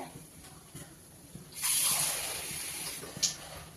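Water poured into a pot of half a kilo of chopped green tomatoes, a broad rushing gush that starts abruptly partway through and keeps going steadily to the end, with quiet kitchen rustle before it.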